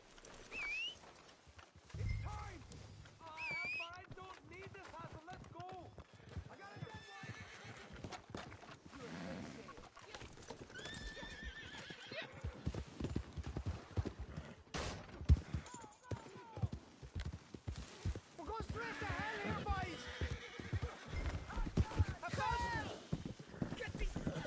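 Video game horses clip-clop and whinny through a busy PS4 multiplayer scene, with hoofbeats and calls mixed among gunfire and effects while players talk over them throughout.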